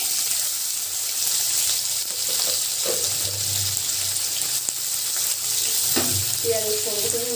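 Onion frying in a pan of hot oil with cinnamon, cardamom and cloves, a steady close sizzle with a few stirring scrapes and clinks, no talking.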